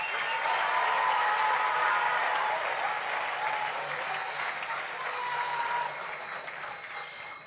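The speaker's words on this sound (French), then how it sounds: "Un tonnerre d'applaudissements pour ces hommes." A thunderous round of audience applause at a sports awards ceremony, a dense, steady roar of clapping from a large crowd that gradually eases off over several seconds.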